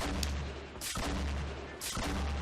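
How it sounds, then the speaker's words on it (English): Grenades exploding in Fortnite Battle Royale during a 2018 competitive match, two broad booming blasts about a second apart over a continuous dense background roar. "looking to have these grenades explode in the air"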